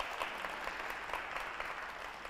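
Steady applause from an audience, a dense patter of many hands clapping at an even level throughout, with no voices standing out.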